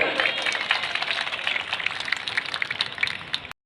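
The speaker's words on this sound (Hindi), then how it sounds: "जोरदार तालियों से अभिनंदन करें" A crowd at a Ramlila stage performance of the Ramayana applauds loudly and steadily, a dense wash of clapping that holds for several seconds before cutting off abruptly.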